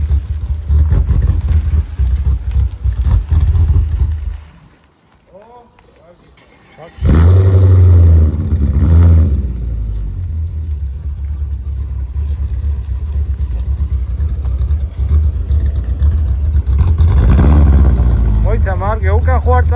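BMW E32 740iL V8 engine in a workshop, loud rumbling idle that drops away, then cranks and catches with a roar and revs up, running steadily with occasional higher revving bursts while people talk nearby.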